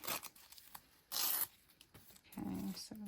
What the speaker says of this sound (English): I'm just going to tear it.